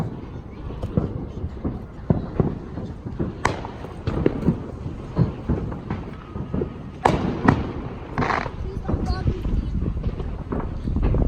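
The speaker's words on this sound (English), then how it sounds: "Firework number 3." Fourth of July fireworks go off outdoors in a string of sharp cracks and thumps at irregular intervals, mixed with wind buffeting the microphone and people talking close by.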